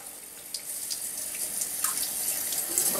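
Water runs steadily through a tube in a Venturi-effect experiment, a soft continuous hiss and trickle with small splashes and bubbling pops scattered throughout, close and without talk.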